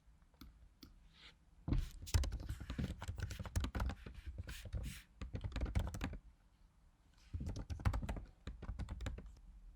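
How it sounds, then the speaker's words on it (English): Rapid clicking of computer keys in bursts with short pauses, close and fairly loud, as text is typed into an online store's shipping settings. "so I'll just type that here real quick"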